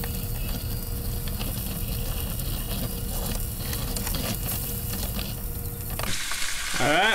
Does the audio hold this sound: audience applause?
no